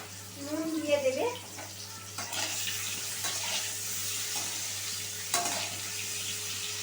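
Potatoes fry in a pan for a cumin-paste aloo dum, giving a soft, continuous sizzle with occasional stirring scrapes, while a voice talks over it.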